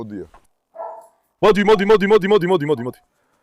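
A sheepdog barks in a quick, close run of about a dozen loud barks, preceded by a couple of shorter yips or whines.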